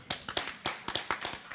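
Small audience at a book talk clapping briefly, a handful of sparse, uneven claps close by, like a few people joining in a short round of applause.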